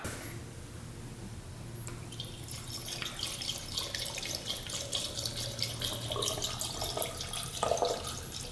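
Coolant poured into the high-mounted fill on a rare two-stroke dirt bike, a steady, close trickle and splash of liquid running for several seconds with no talking.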